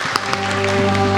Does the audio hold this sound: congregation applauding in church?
yes